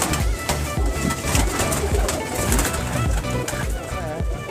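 Teddy breed pigeons coo in a breeder's loft, soft repeated low coos with some wing and body rustling close by, while people talk quietly in the background.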